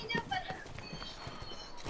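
Hooves clop along in a quick, even trot beneath people talking, fairly soft and steady throughout.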